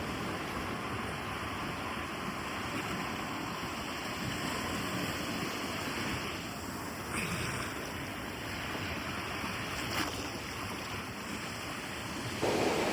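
Ocean waves wash steadily at Devbag beach on the Malvan Konkan coast, a continuous broad rushing surf mixed with wind buffeting the microphone, with no distinct breaks.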